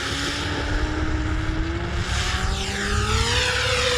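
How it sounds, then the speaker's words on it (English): An E-flite V1200 RC plane with a slightly unbalanced propeller flies past, a loud, steady motor-and-prop whine gliding in pitch as it moves, with a buzzy rough edge throughout. "Sounds like that prop's a little unbalanced"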